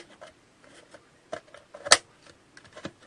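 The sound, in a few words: funnel clipped back into a slug trap container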